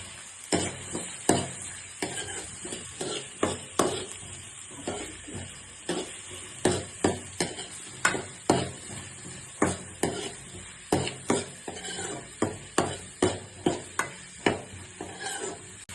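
Onions frying in a pan at home, giving a steady sizzle under a rapid run of sharp spatula scrapes and taps against the pan, repeating every second or so throughout, close and fairly loud with no talking.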